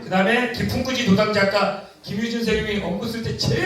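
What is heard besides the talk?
None of the usual background noises is heard.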